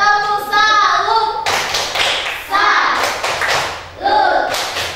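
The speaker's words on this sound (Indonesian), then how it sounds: "Kita beri tepuk salut dulu untuk kelompok 3." A school class claps out a rhythmic 'tepuk salut' cheer for group 3. Bursts of loud clapping alternate with children's chanting voices in a quick, patterned sequence, close and lively.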